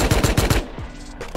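Rapid gunfire in the Rust video game, five sharp close shots in quick succession followed by a fainter shot and a lingering echo.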